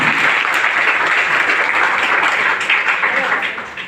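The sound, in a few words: audience applause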